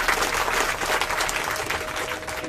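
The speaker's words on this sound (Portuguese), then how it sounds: "E palmas, porque essa mulher merece." Dense, steady audience applause at a talk on feminism and Christianity, continuous clapping from a large crowd filling the short stretch with a faint tonal hum beneath.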